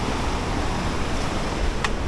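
Seaside waves and gusting wind beside moored fishing boats, with the surf rushing steadily and the wind buffeting the microphone close up throughout a short stretch.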